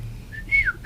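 A single short human-whistled imitation of a bird call, a brief rising then falling chirp and a quick final note, faint and alone over low background hum.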